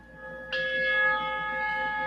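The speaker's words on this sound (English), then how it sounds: "can you hear that bell?" A meditation bell from the Insight Timer app is struck once, its clear ringing tone sustaining and slowly fading over quiet background.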